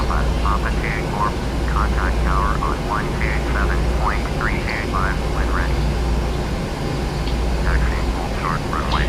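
An airliner taxis to the runway in the PMDG flight simulator, a steady engine rumble and hiss running throughout, with faint chirping cabin or cockpit sounds above it.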